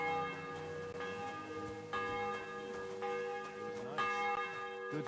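Repeated strikes of a village church bell ring out in Kingdom Come Deliverance 2, each clang leaving a shimmering hum that overlaps the next, set against a quiet musical backdrop with no voices.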